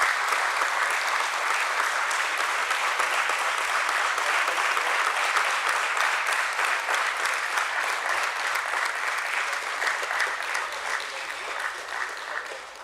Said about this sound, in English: a nice rousing round of applause for Samhi Hotels Limited getting listed here at the BSE